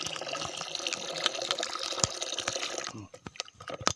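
Water poured into neem seed extract being prepared as a farm spray, a splashing, trickling pour with scattered drips that stops near the end, leaving a few isolated drops.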